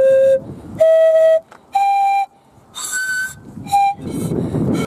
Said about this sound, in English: As we were walking past some shops, I bought this. You blow it, it makes noises.